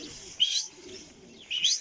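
Pigeons kept by a hobby breeder coo in two short soft bursts separated by a pause, faint and alone with no talk.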